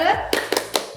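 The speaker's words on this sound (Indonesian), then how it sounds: "Kita tepuk semangat lagi bareng-bareng." A small group of children and a leader clap a short rhythmic tepuk semangat cheer during an online Sunday school service, with three sharp claps following brief speech.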